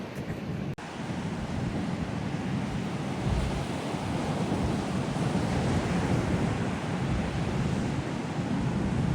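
Sea waves break on a Cornwall beach in a steady, loud, continuous roar of surf, with gusty wind buffeting the microphone throughout.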